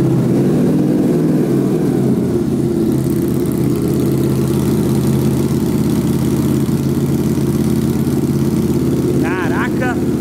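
A new motorcycle fitted with a titanium exhaust runs at a steady idle, its loud, close, continuous drone holding for the full ten seconds with little change in pitch.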